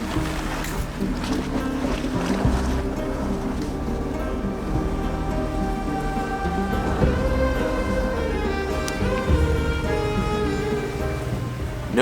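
An off-road pickup truck rolls through a snowy water crossing on a Vermont backcountry trail, with continuous splashing and sloshing water over a low engine rumble, close and sustained for several seconds.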